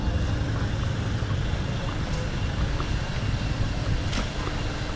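A tuk-tuk travels through Siem Reap before dawn toward Angkor Wat, its steady engine drone mixing with rushing wind against the microphone throughout, with no talk.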